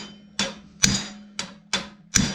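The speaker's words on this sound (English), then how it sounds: "use a hammer and beat on things with your vise" A hammer strikes a metal bench vise five times in an uneven rhythm, each blow a sharp, close, ringing metallic clang that decays quickly, with no talking.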